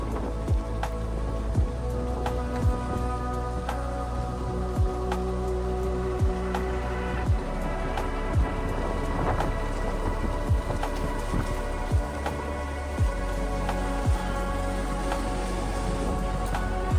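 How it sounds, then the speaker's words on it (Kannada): Monsoon rain falls steadily near Sakleshpura in Karnataka, a constant close wash with a low rumble of thunder underneath, without talk. "ಮತ್ತೆ ಮಳೆ ಸ್ಟಾರ್ಟ್ ಆಯಿತು."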